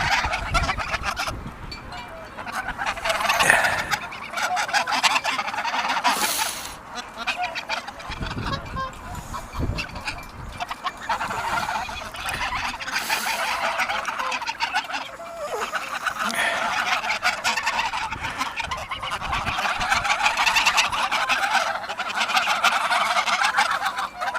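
Ducks and other waterfowl calling and honking repeatedly near and around at a pond in Reykjavik, a busy outdoor atmosphere with steady background noise.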